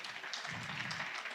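Studio audience at a talk show breaking into applause, a short burst of clapping heard faintly and at a distance.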